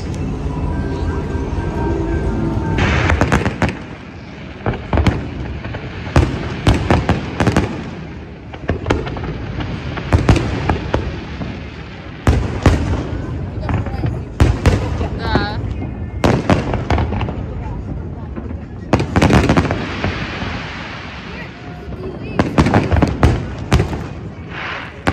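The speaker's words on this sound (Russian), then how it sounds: "мы пришли смотреть фейерверк" Fireworks at a display at Expo in Dubai burst in repeated loud bangs and crackling volleys, irregularly spaced, with crowd voices and talk audible between the explosions.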